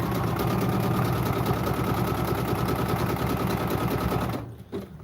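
A sewing machine runs steadily and close, tack stitching around a knee pad seam with a fast even mechanical rhythm, then stops abruptly near the end.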